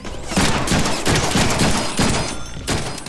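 Loud, close gunfire from the Deadpool video game, several heavy rapid shots in quick succession with rolling echoes filling the few seconds.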